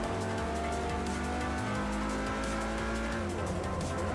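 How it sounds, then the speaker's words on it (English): A five-cylinder car engine in the racing game Forza Motorsport 4 drones steadily and loudly with layered harmonic tones throughout, shifting pitch slightly as it revs, with faint tire noise. "5-cylinder sounds sick though."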